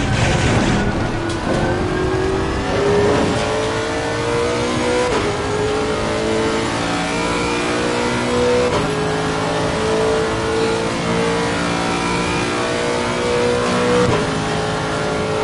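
GT race cars rev and accelerate around Monza in Assetto Corsa Competizione, with loud, continuous engine notes climbing and dropping through gear shifts as several cars race close together.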